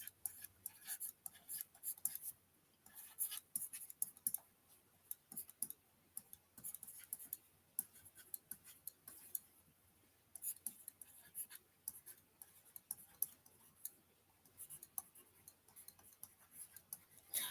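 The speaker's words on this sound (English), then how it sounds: "let's say we write down the whole alphabet" Pen or pencil writing out the alphabet by hand, a steady run of small scratchy strokes and taps with brief pauses between letters, quiet and close, with no talking.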